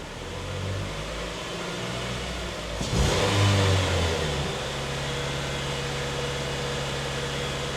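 A 2014 Nissan Frontier with a rough-running engine accelerates, a steady mid-pitched engine drone that swells briefly into a louder rev near the middle before settling back to a constant hum, with no talking.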